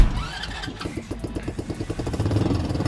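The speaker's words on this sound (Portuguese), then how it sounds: "primeiro, ronco motor. Vai, acelera" A Yamaha R3 motorcycle engine idles and revs up close, with a rapid, pulsing exhaust note that climbs and grows louder toward the end.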